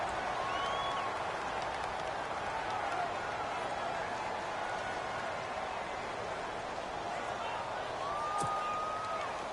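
Steady stadium crowd roar and cheering in an American football video game, a constant dense wash of voices holding at even loudness throughout, with a whistle-like tone rising briefly near the end.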